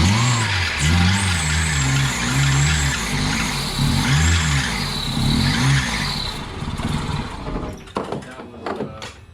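Old BMW E21 320i, parked for thirty years, cranks and runs with loud, close engine noise rising and falling as it revs, then falters and sputters into irregular bursts near the end.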